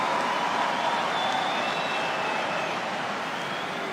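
Steady, dense applause from a large stadium crowd at an Australia versus New Zealand rugby Bledisloe Cup match, continuous clapping and faint cheers held at an even level throughout.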